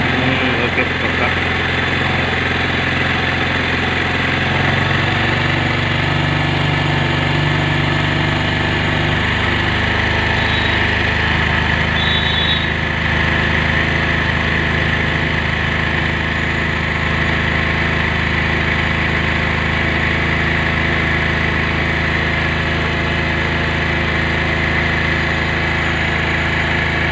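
Motorcycle engine idling steadily for the whole stretch while the carburettor air screw is adjusted, the idle speed rising and falling slightly; loud and close with a constant low hum and no clear voice over it.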